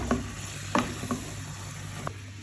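Large chicken pieces with a little salt are stirred in a pan for a chicken curry, a few soft spoon scrapes and clinks over a faint steady sizzle, close but quiet, with no talking.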